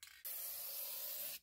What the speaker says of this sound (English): spray a little bit of epoxy